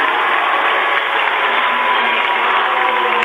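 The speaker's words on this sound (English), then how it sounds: "the noise level is growing here in Crawley Stadium" A steady roar of a basketball crowd inside Crawley Stadium during a high school game, a broad, even wash of cheering and murmur held at constant loudness throughout, with no clear voices standing out.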